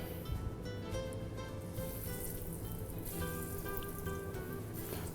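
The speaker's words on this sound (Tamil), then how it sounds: "இப்போ அந்த ஆயிலில் நான் ஃப்ரை பண்ண போகிறேன்" Food frying in hot oil in a kitchen, a dense steady crackle and sizzle with bright popping, close and continuous throughout.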